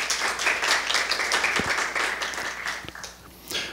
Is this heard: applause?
yes